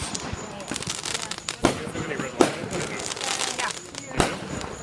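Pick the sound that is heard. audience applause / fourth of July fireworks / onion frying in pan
fourth of July fireworks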